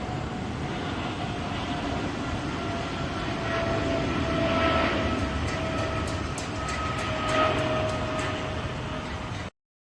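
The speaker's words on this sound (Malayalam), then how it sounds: "അബുഹൈൽ മെട്രോ സ്റ്റേഷന് മുകളിലൂടെ ഫ്ലൈറ്റ് പോകുന്ന ഒരു കാഴ്ചയൂടെ കാണാം." An airplane passes over Abu Hail metro station in Dubai, a broad steady roar that swells toward the middle with faint whining tones and thin metallic squeals from the nearby rail line before cutting off.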